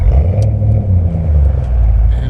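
A 5-litre V8 HSV Senator drives on the road with a steady, deep, throaty engine rumble, loud and close throughout, with no change in pace.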